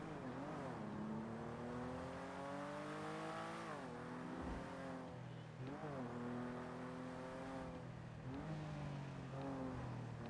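Car engine in the video game GTA during NoPixel roleplay, revving and shifting through gears with rising and falling pitch, steady and fairly quiet, with no talking.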